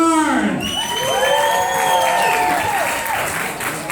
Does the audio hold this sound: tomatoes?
no